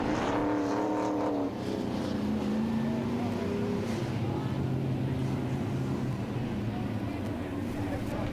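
Late model race cars racing at Waterford Speedbowl, a loud, steady roar of several engines droning and shifting pitch, with an announcer talking over it.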